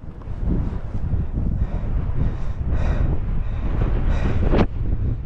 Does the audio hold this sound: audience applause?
no